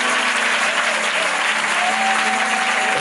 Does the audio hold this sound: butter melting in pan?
no